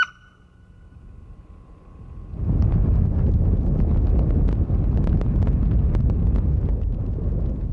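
Quiet at first, then strong wind buffets the microphone with a loud, continuous rumbling roar that holds steady to the end.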